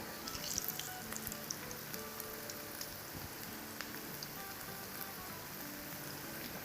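Lauki koftas fry in hot oil, giving a steady, soft crackling sizzle with scattered pops throughout, fairly quiet and without speech.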